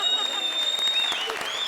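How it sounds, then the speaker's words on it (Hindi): Applause from a comedy show audience: a dense, steady clatter of clapping that keeps going through the whole short stretch, fairly loud and close, with a faint tone ringing above the crowd. "तालियां"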